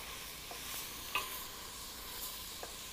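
Ingredients for a vegetarian dish are stirred in a hot pan, giving a faint, even sizzle with occasional light utensil taps and scrapes.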